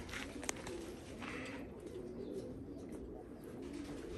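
A Tempo breed pigeon coos softly in low, repeated murmurs against a steady background hiss, with a faint click or two and no talking.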